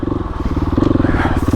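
A KTM 500 EXC-F four-stroke dirt bike engine with a Rekluse clutch thumps and revs with a rapid, loud, lumpy chug, close by, over a short burst with faint voice in the background.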